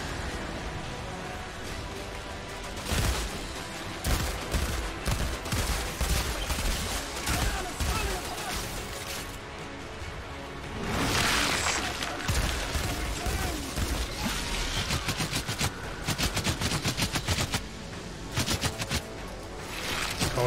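Gunfire in the Outriders video game, dense rapid bursts of automatic shots crackling almost continuously with brief pauses, loud and close, with a voice speaking briefly.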